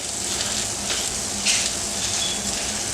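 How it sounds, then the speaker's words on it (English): Slices of Aldi luncheon meat frying in a pan make a constant close hiss with a few brief louder spatters, alone without talk. "So we're just gonna go ahead and fry this up."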